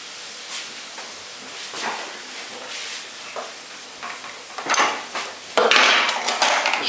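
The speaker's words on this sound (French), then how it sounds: "Je vais mélanger." Pasta with shrimp and warmed tomatoes tossed in oil in a bowl, giving soft scraping and clinking of utensils against the bowl, irregular and close, louder bursts toward the end, with no speech.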